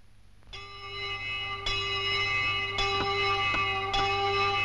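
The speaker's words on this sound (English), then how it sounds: "Entering the house as the handbell chimes out 12" A handbell chiming midnight at New Year in a house, clear ringing strikes spaced roughly a second apart with long sustained metallic overtones overlapping, moderately loud and alone.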